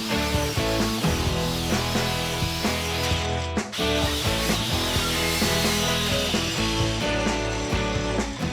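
A saw cuts through a heavy timber along the shoulder line of a timber-frame tenon, a loud, sustained harmonic cutting drone with a brief dip partway through and no talking.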